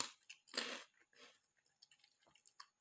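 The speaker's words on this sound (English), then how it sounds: "I'm going to be crunching every now and again." NikNak corn snacks crunched in the mouth while eating, with a few sharp, close bites followed by quieter, scattered chewing crackles.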